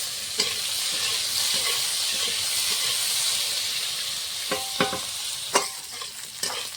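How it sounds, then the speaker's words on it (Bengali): Potatoes fry in a pan with a continuous sizzling hiss, broken by a few sharp clinks of a utensil stirring against the metal near the end; no one speaks. "আলুটা আগে ভালো করে ভেজে নেব"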